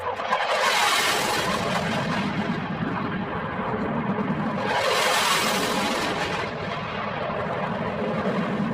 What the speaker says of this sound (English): These two F-16s doing low flybys.